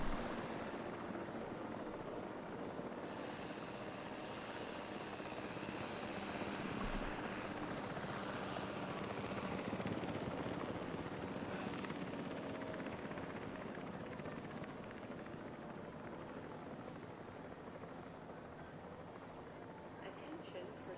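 Helicopter arriving in the video game Jurassic World Evolution, a steady broadband rotor and engine roar that stays at a fairly even level for the whole stretch, with speech-like game chatter mixed faintly underneath.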